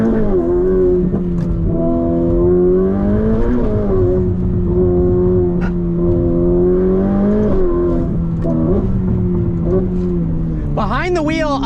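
A Ferrari F8 Tributo accelerates hard on the road, its engine note loud and close as it climbs and shifts through repeated rising pulls, with a voice talking over it and a sharp rev flare at the end.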